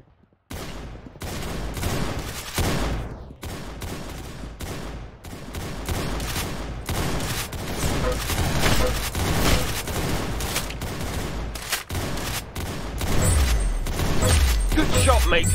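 Dense gunfire from the Roblox Arsenal game rattles nearly nonstop in quick repeated shots, loud and close, with a brief pause near the start and occasional voices underneath.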